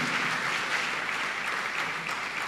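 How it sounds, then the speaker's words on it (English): An audience at a Ghanaian patriotic event applauds as a guest, Reverend Dr. Joyce Ayi, comes onstage, giving a steady, even round of clapping that holds at a moderate level throughout. "Ladies and gentlemen, a round of applause to her as she comes to have conversations with Dr."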